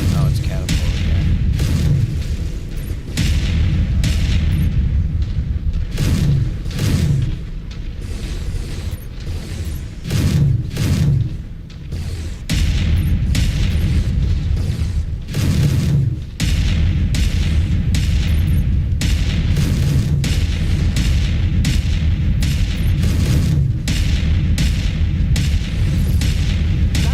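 Catapult impacts in a video game land as repeated heavy booming thuds, one after another at an uneven pace, loud and close over a dense rumbling battle soundscape.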